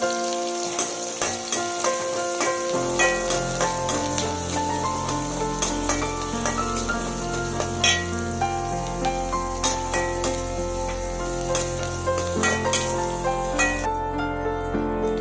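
Chopped large onions sautéing in a pan for sambar rice: a steady, close sizzle and crackle sets in after a brief quieter start and carries on continuously, with occasional stirring scrapes and a tonal musical background.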